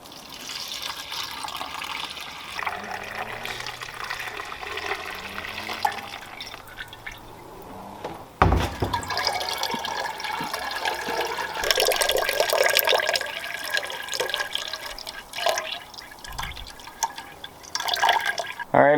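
Maple syrup poured through a filter funnel during final processing, a soft continuous liquid trickle and drip with a sharp knock partway through and people talking.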